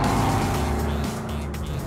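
A turbocharged VW Golf GTI Mk7 in sport mode with Tiptronic pulls hard, its engine note rising in a steady, loud drone from close by, with a slight dip near the end and no talking.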